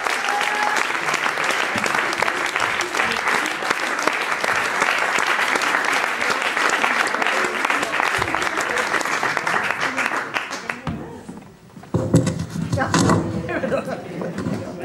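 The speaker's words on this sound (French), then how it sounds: "Continuez à applaudir pour Piéton, s'il vous plaît." A theatre audience at the Théâtre Gérard Philipe gives loud, sustained applause with crowd noise, dense and continuous for about eleven seconds before it breaks off into a short lull and then talking.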